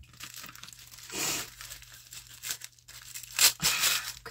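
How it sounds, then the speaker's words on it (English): Package wrapping being torn open, with soft crinkling and crackling in several uneven bursts, a louder tearing rustle near the end, close and fairly quiet with no talking. "Crinkling."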